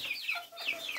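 Young chicks cluck and peep in quick, busy bursts while they eat raw meat lightly dusted with chili pepper from a feeder. The calls are close and continuous, with no talking over them.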